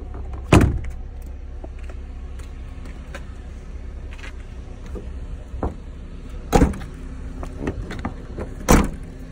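Power door locks on a 2008 Jeep Compass, heard as three sharp mechanical thunks spaced a few seconds apart over a low, steady background hum, close by and with no talking.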